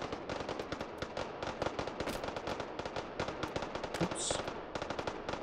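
Rapid gunfire in the VR shooter Hot Dogs, Horseshoes & Hand Grenades, with a dense string of sharp cracking shots in quick succession, close and loud, and a brief spoken word partway through.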